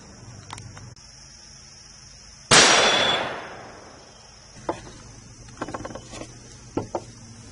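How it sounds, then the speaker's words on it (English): A .223 rifle round striking a quarter-inch through-hardened S7 steel plate gives one loud, sharp crack with a long decaying ring, then a few faint, scattered knocks and clicks afterward. "Now let's start in with the rifle. We're going to start with 223."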